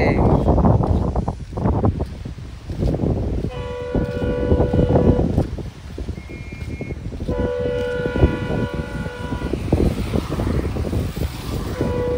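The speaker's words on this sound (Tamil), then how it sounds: "ட்ரெயின் பாம்பன் பாலத்தில் வந்து கொண்டிருக்கிறது" A train rumbles steadily across the new Pamban rail bridge, a continuous heavy roar with wind buffeting the microphone and brief high metallic squeals or horn tones.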